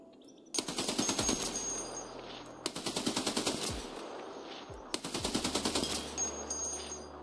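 A light machine gun in a PvE video game fires three long rapid bursts, each a loud, fast rattle of shots with booming tails, split by short gaps.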